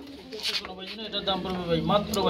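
Pigeons cooing at a pigeon market sale, soft, throaty coos rising under nearby conversation and background chatter.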